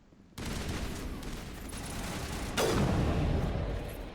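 A sniper rifle fires in the game Mass Effect: a loud, booming blast cuts in, then a second heavy shot lands a couple of seconds later, each with a long rumbling tail.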